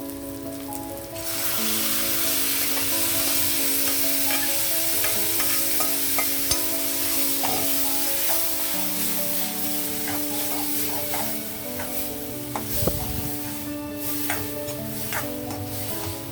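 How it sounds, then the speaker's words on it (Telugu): Cooked lentils going into a pan of fried garlic, with steady sizzling and frying throughout and stirring scrapes and clinks of a utensil on the pan, loud and close, with no talking. "ఇందులో వేగాయి కదా, మనం పప్పు యాడ్ చేసేద్దాం ఇందులోకి."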